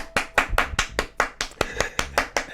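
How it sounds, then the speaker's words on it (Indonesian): Rapid hand clapping from a podcast audience, about a dozen sharp, close claps in a quick, fairly even rhythm over a couple of seconds. "Tepuk tangan dulu."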